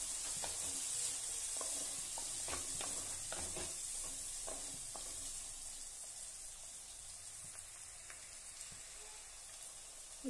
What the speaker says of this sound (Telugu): బాగా కలుపుకుందాం ఒకసారి.